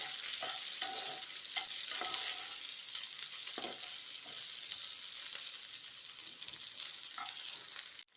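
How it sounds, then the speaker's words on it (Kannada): Onion and curry leaves frying on a low flame, a continuous soft sizzle with frequent spatula stirs and scrapes scattered through it, close and quiet, with no voices. "ಇದು ಸಣ್ಣ ಉರಿನಲ್ಲೇ ಫ್ರೈ ಮಾಡ್ಕೊಬೇಕು"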